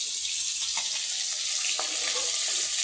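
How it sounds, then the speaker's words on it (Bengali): Fish frying in a pan with potato nearby in a home kitchen, a steady, even hiss of hot oil sizzling throughout with faint pops and crackles. "হালকা লাল লাল করে ভেজে নেব মাছগুলা"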